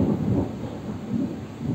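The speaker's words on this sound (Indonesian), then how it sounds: "Ini petir beneran ini, bukan yang di game." Real thunder from an outdoor storm rumbles low and continuous, with a deep rolling swell and a faint wash of rain, loud and near, recorded in the room over a car racing game session.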